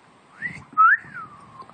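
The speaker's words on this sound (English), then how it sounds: "Come on, whistle for me." A pet parrot gives a short whistle, a rising then gliding tone with one bright, louder peak, close and alone in a quiet room.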